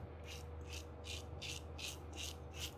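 Single edge plastic Vishwa razor with a dull blade shaving stubble: seven evenly spaced rasping scrapes, close and crisp, repeating steadily about every two-fifths of a second over a low background hum.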